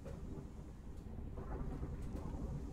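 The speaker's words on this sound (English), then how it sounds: "Oh, is this the storm?" Thunderstorm in the game Rime: a continuous deep rumble of thunder with rain-like hiss, fairly faint and steady, no voices.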